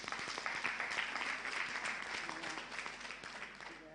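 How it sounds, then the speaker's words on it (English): A conference audience claps steadily, the applause fairly soft and distant, slowly tapering off toward the end. "Let's give a round of applause."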